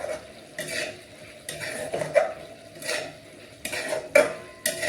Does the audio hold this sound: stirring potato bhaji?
yes